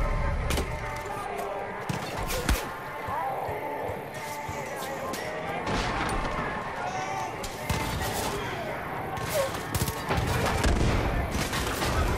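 Machine gun and mortar fire in the shooter Far Cry 5, with scattered sharp bursts and heavy thumps over continuous battle noise, and a voice speaking over them.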